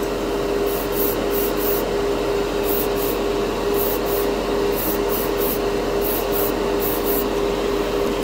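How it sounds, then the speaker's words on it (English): An airbrush sprays mica powder pigment onto model kit parts, giving a steady close hiss of air throughout with a faint repeated ticking over the top, and no talking. "Sprays beautifully."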